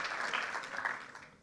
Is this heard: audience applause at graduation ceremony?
yes